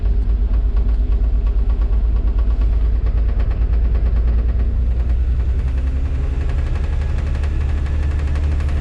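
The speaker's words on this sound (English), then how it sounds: "We'll give it a little tickle just to elevate the revs slightly" A large diesel engine not firing on all cylinders rumbles loudly and roughly, its pulsing idle rising slightly in pace, uneven firing giving a knocking, chugging rhythm.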